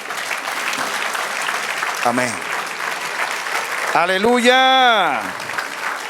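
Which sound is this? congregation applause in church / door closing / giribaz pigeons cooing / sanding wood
congregation applause in church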